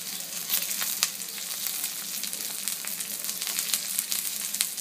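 Onion and garlic fry in a little oil for a pomfret fish curry, a quiet continuous sizzle with faint crackles and stirring scrapes, no one talking.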